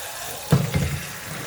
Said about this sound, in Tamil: கீழே வாஷ் பண்ணுங்க.